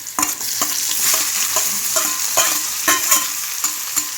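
Onions frying in hot oil with crackled mustard seeds and asafoetida, a bright continuous sizzle broken by repeated stirring scrapes, close and without talk.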